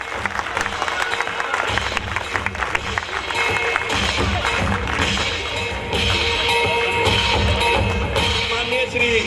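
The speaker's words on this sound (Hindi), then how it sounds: "जोरदार तालियों के साथ अभिनंदन, तालियां बजती रहनी चाहिए।" A crowd at an ex-servicemen program applauds loudly to welcome a guest, producing continuous, dense clapping with some crowd noise and faint cheering throughout.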